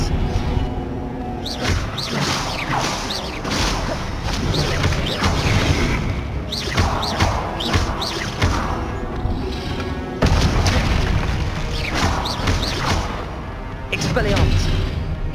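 Spell effects from the Hogwarts Legacy video game, including the Expelliarmus spell, as loud booming blasts, whooshes and crashes layered over dense continuous game sound and music throughout, with a voice calling out spell names.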